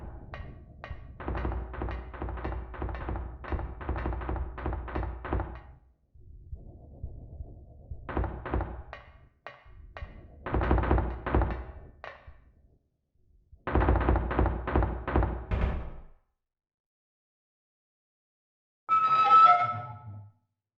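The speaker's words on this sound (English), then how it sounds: "The game by design has sound effects like footsteps and doors opening louder than the actual music" Footsteps and doors opening in a horror video game, heard as loud, uneven clusters of thuds and knocks separated by stretches of silence, with a final short creak near the end.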